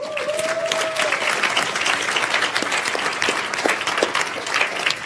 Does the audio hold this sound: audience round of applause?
yes